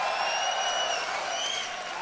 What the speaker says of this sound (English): UIS fans, the Protoss hero from South Korea, give a cheer if you want him taking the first place ring tonight.